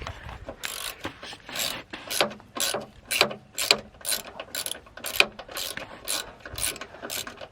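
Ratchet wrench loosening a 13 mm bolt on a wheel bearing hub assembly to free the ABS line, a run of quick rhythmic clicking bursts repeating steadily at close range, no talk.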